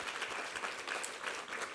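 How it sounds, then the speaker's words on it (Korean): A church congregation at a Sunday worship service claps together, a steady, fairly faint and distant wash of applause. "우리 하나님께 감사와 영광의 박수 올려드리겠습니다"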